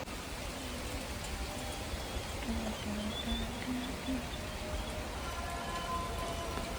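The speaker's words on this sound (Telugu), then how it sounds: "ఇంకా వర్షం అయితే స్టార్ట్ అయింది" Steady rain falling outdoors during the rainy season, a constant even hiss of drops on surfaces, continuous and fairly loud with no voices over it.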